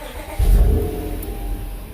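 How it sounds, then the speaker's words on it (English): A Honda Accord (2013 or newer) with a manual clutch fires up, its engine catching with a loud low burst and settling into a steady idle close by, no talking. "One other thing you can do is actually start your car"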